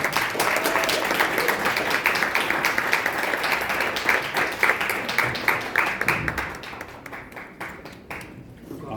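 An audience at a Korean traditional music event applauds with steady, dense clapping that holds for several seconds, then thins out and tapers off toward the end.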